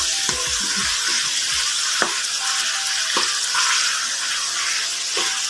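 Bagoong alamang shrimp paste and ripe tomato cooking in a pan hiss with a loud, continuous sizzle, broken by a few sharp clicks and scrapes of stirring.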